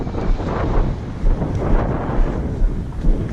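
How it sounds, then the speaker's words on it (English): Blustery wind buffets the microphone with low, rumbling gusts that rise and fall steadily throughout, loud and close, with no voices. "It's kind of windy."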